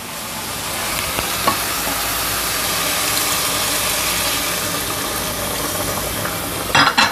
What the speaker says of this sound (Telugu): ఇప్పుడు మనం గ్రైండ్ చేసి పెట్టుకున్న మసాలా వేసేద్దాం.